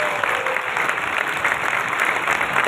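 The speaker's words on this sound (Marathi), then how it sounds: "जोरदार टाळ्या झाल्या पाहिजे" Steady, loud applause from a large seminar audience fills the whole stretch, a dense continuous patter of clapping with no talk over it.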